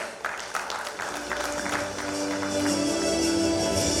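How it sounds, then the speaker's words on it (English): An audience at a digital governance conference in Guwahati gives a round of applause, a continuous wash of clapping over a faint steady hum from the hall. "A huge round of applause"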